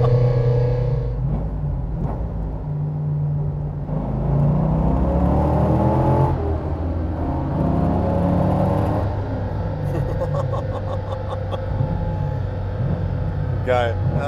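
A Subaru BRZ with an LS3 V8 swap pulls hard in fifth gear, engine drone rising in pitch under wind and road roar, with someone talking over it from inside the car.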